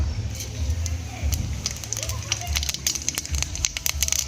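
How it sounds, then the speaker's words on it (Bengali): Spices crackle and sizzle in hot oil in a wok, a steady frying hiss with scattered sharp pops throughout, close and fairly loud with no talking over it. "কড়ার মধ্যে তেল দিয়ে দেবো, ফোড়ন দিয়ে দেবো,"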